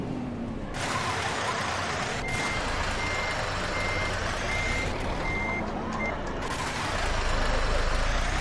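Reversing beeps from a TEMSA Safir Plus bus parking in a video game: steady repeating electronic beeps over a continuous engine rumble and broadband hiss, with a brief air-brake-like burst, no talking.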